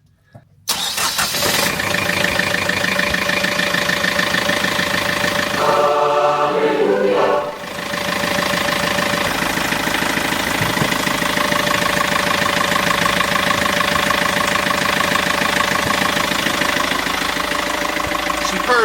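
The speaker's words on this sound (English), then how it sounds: "go fire an engine up and see." A boat engine cranks and catches, then settles into a steady, loud idle that runs continuously to the end, with a brief dip in level shortly after starting; voices are faint beneath it.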